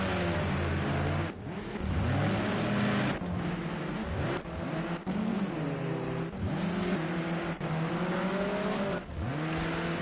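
Onboard engine of a touring car in a BTCC racing video game at Silverstone, revving hard and rising in pitch through repeated gear changes, with short drops between shifts and faint tyre noise, loud and close.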